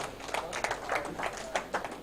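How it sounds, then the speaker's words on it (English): Scattered clapping from a small seminar audience, a brief spell of uneven, fairly faint hand claps with irregular bursts rather than a full ovation. "A round of applause for my doctor."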